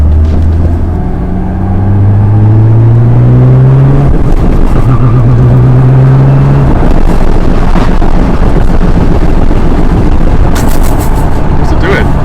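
A 1000BHP Liberty Walk Nissan GTR accelerating loudly, close and very loud with rising engine pitch through the gears, followed by rough roaring and crackles, with people talking over it.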